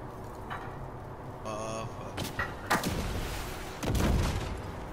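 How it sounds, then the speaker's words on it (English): Rockets and gunfire in the shooter game The Division 2, with several sharp booms and bursts over a constant game backdrop, the loudest blasts coming late in the stretch. "I'm shooting me some rockets at these bitches."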